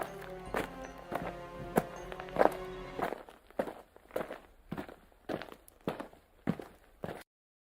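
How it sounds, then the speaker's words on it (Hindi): Slow footsteps in an animated horror story, about ten evenly spaced thudding steps on a hard floor, close and clear with no talking, the first few over a low sustained tone that falls away midway. "उसे किसी के चलने की धीमी धीमी आहट सुनाई दी।"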